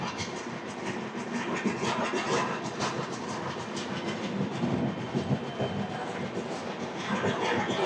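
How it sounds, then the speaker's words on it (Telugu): The Samata Super Fast Express, train 12807 from Visakhapatnam, runs past at high speed with a loud, sustained rushing roar and rapid wheel clatter, steady from start to finish with no talk. "ఇదే ట్రైను"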